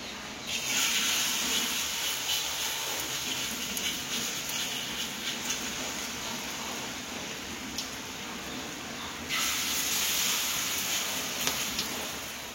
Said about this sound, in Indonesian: Oke, udah panas kita punya minyak. Kita goreng dulu bakwannya yuk.